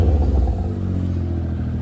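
A Honda Civic engine idles on a cold start, a close, low rumbling drone with a slight dip in level after the first moments, heard alone.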